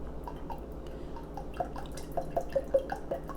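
Liquid, a bit under a quarter cup, poured into a bowl during vegan meal prep, heard as soft close drips and small splashes that quicken toward the end, with no voices.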